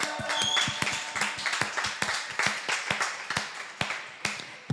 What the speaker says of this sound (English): can we please give a warm round of applause to Jeff?